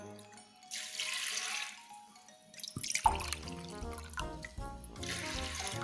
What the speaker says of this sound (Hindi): डेढ़ गिलास करीब हम इसमें पानी डाल देंगे